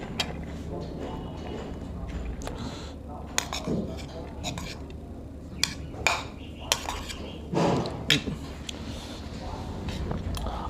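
A spoon clinks against dishes as fried rice and chicken curry are served onto a plate in a restaurant. Sparse, close metallic taps and scrapes sound over a low background hum, with voices talking in the room.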